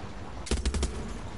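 Rapid burst of four or five loud gunshots from a weapon in the video game Far Cry 6, close and punchy, lasting under half a second before fading into quiet background game ambience.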